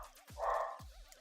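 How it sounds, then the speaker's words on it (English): A dog barks a couple of times in the background, faint and distant, somewhere in a home during an online chat, with a short whine or yip between the barks. "Apologies if you hear the dog in the background."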